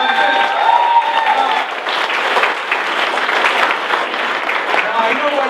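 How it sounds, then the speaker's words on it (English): A large audience applauds loudly and continuously at a political candidacy announcement, the clapping a dense wash that carries on throughout with a brief voice at the start. "Give a round of applause to Bob Ferguson."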